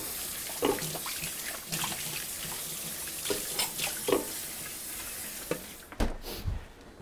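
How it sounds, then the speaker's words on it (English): Hands rinse under a running kitchen tap, a steady close hiss of water broken by splashing bursts as hands move through the stream, then a brief clunk as it stops. "I'll rinse my hands."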